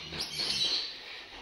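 African lovebirds kept for sale chirp in a brief, bright, high twittering burst, fairly close, with no voices.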